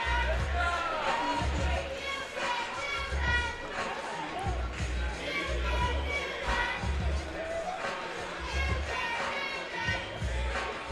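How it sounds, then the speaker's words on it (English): Second-grade kids cheering and shouting from the stands at a varsity high school ice hockey game, a steady noisy crowd din with bursts of voices and thumps, close and continuous under a commentator's talk. "The kids are cheering down below."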